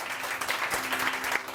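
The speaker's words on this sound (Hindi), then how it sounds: "तालियां तालियां" A short round of steady applause comes from a studio audience on a morning TV show, dense and close.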